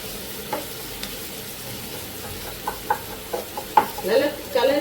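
Chopped onions sauté in a pan for Punjabi dhaba-style mutton curry, giving a soft steady sizzle with sharper spatters and scraping stirs that build toward the end.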